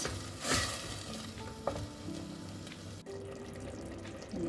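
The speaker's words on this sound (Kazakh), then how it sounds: "Жақсылап қуырылды етіміз." Meat frying with tomato paste in a pot for lagman, a dense close sizzle with stirring clatter and a spoon knock, then a slightly quieter frying hiss after a brief cut.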